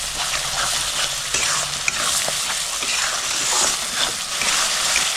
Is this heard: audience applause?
no